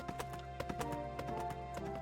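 Horse hooves clip-clop steadily in the farming video game Pumpkin Days, a close and fairly quiet rhythm of light knocks laid over constant background music, with no talking.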